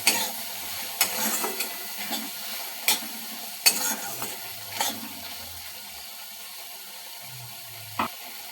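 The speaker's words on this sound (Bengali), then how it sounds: "নেড়ে দেবো।" Cherry tomato chutney is stirred in a pan on low flame, with sparse, soft spoon knocks and scrapes over a faint simmering hiss, fairly quiet and close.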